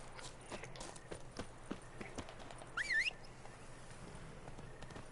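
Roach the horse's hooves clip-clop at a walking pace in The Witcher 3 game, faint and steady with a regular beat, and a brief sharp chirping cue rising midway over the quiet ambience.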